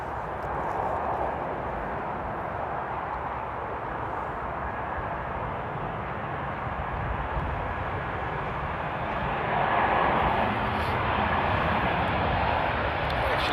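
A heavy airliner arriving at Amsterdam Airport, a steady broad jet roar at moderate distance that swells slightly toward the end, with a voice speaking over it.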